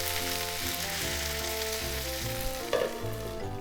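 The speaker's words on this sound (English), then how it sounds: "I'm gonna pat it down like this so they stick better." Bean sprouts sizzle steadily in a hot frying pan as they are pressed down flat, a continuous close crackle with a few soft pats and scrapes of the spatula, no talking.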